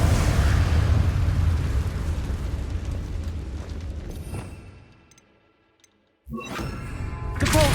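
Confringo fire-blast spell in Hogwarts Legacy, a loud, sustained roaring blast that fades away to near silence before a second sharp burst erupts and rumbles on.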